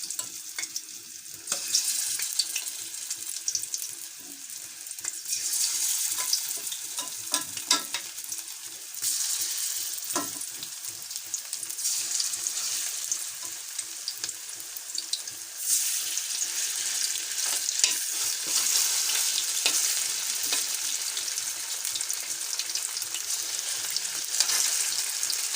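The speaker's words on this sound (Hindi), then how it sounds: "अब हमने चिकन को फ्राई करना है।" Marinated chicken pieces fry in about five tablespoons of ghee, sizzling steadily and crackling close up, with occasional stirring and scraping in the pan; no one speaks.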